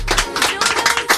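Short burst of hand clapping, a handful of distinct claps in quick rhythm, close and fairly loud.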